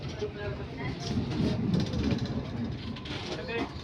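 Steady rumble of a Gurugram metro train in motion, a continuous low roar with faint rattling, and indistinct voices murmuring in the crowded carriage.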